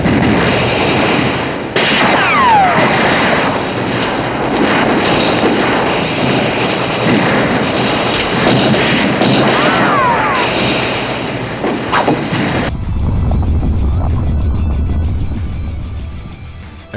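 Heavy gunfire and explosions from a James Bond film gunfight with a Japanese twist, loud sustained bursts and blasts with whooshing effects, then an abrupt cut to a quieter low rumble near the end.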